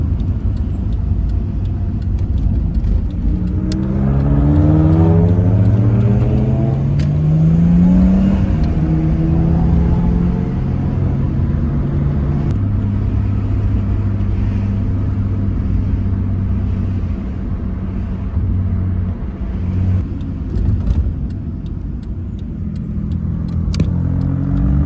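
A rusty Nissan S13 drives along, its engine rising in pitch through the gears, then settling into a steady cruising rumble heard from nearby.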